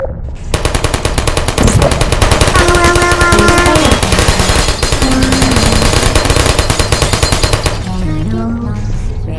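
Automated sentry turrets firing in the video game Portal, a loud, rapid, unbroken stream of machine-gun shots lasting several seconds and then cutting off, with a synthetic voice speaking over the burst.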